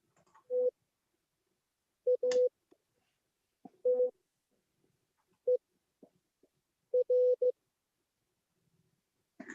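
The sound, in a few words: Morse code rover message being played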